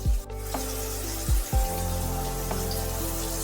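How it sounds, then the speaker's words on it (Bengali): Chopped tomatoes sautéing in a pan for khichdi, a soft steady sizzle with a few sharp clanks of a spoon or spatula against the pan as they are stirred; no talking. "এবার টমেটোটা ভালোভাবে একটু নাড়িয়ে চাড়িয়ে নিতে হবে"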